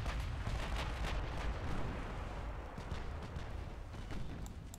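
2-inch naval guns fire during a sea battle in Ultimate Admiral Dreadnoughts, a steady rumbling barrage of overlapping booms and pops that sounds distant and muffled.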